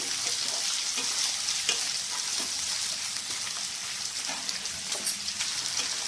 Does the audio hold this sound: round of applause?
no